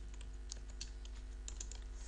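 Fast, light keystrokes patter continuously on a computer keyboard, faint and close, with a low steady hum beneath.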